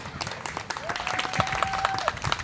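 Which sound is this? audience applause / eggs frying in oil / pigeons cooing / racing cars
audience applause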